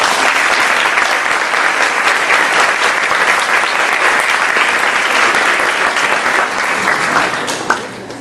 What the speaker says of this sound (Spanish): démosle un fuerte aplauso a Federico